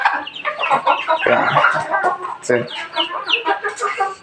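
Several quail cluck close by in a busy, overlapping chorus in a cage, with some voices mixed in.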